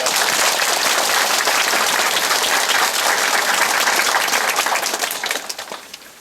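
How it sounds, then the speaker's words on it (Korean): A Korean church congregation at Sunday worship gives a dense, loud round of applause to glorify God, a steady roar of many hands that holds strong before tapering off near the end. "하나님께 영광의 박수 올려드립니다"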